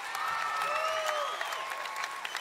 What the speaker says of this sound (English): Let's make some noise, bring it home strong, James Johnston.